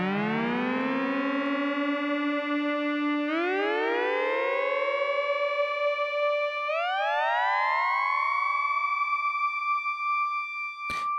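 An ARP Odyssey synthesizer plays a siren patch modeled on a highway patrol siren. Two layered, sweeping wails rise and glide upward in repeated steps. The tone is loud and close and sustained for about eleven seconds, with no talking.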